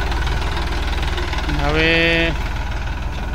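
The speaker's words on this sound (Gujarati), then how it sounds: "ટ્રેક્ટર આવી ગયું છે સાઈડો ફરવા" A farm tractor's engine runs at a steady, close idle with a low, throbbing drone, and a brief higher tonal whine rises over it midway while people talk nearby.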